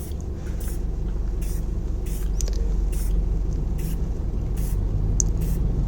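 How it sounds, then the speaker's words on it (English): Continuous aerosol hiss of red spray paint being applied to the exposed areas of a tape-masked pinewood derby car, steady and close with no talking. "and then I'm going to spray red"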